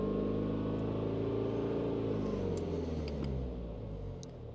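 A BMW 3 Series diesel engine ticks over at idle close by, a steady low rumble with even throbbing pulses that eases slightly toward the end, with a few faint clicks above it.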